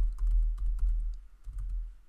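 A command typed on a computer keyboard: rapid, close, light key clicks in two quick bursts with a short pause between, with no talking.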